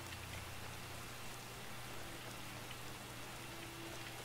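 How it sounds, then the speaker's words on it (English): Continuous rainfall in Skyrim, in the Falskaar mod near a stronghold, a soft, steady patter over a low background hum with no one speaking. "It's been raining for like a day straight,"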